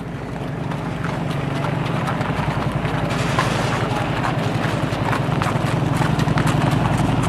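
Horses' hooves clip-clop steadily on pavement in a small-town Lord's Acre Day parade, several animals walking together, close and continuous over a low background rumble.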